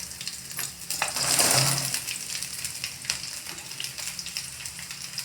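Ripe red chillies hit hot oil in a pan for a red chilli garlic chutney, giving a steady crackling sizzle that swells briefly after being stirred in, then settles into a softer hiss.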